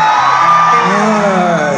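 Festival closing-night crowd at a fair in Santa María Nativitas cheers, whoops and yells together, a loud, dense roar of many voices sustained throughout.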